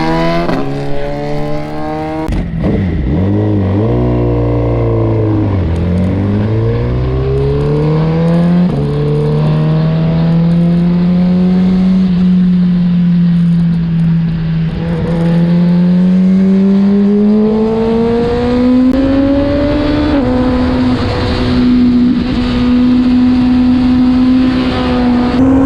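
Suzuki GSX-R1000 superbike engine pulling away loud and close, its tone dropping then climbing steadily through a long acceleration with a sustained high rev at the end, no talking.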